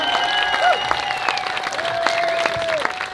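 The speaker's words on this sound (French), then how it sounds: "On peut les applaudir bien fort." An audience at an outdoor concert in Beauvois-en-Cambrésis claps steadily, a dense patter of many hands. A few whistles and shouts rise above it, and a voice talks faintly under the applause.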